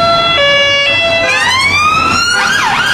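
A loud two-tone UK police car siren alternates steadily, then sweeps upward into a rising wail and a fast warble.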